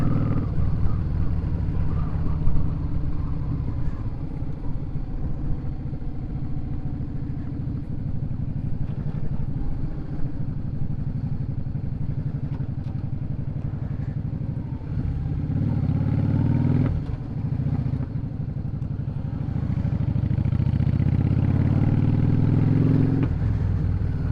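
Yamaha V Star 650 custom motorcycle being ridden, its engine a steady low rumble with slight surges as it accelerates, near and continuous throughout, with no talking.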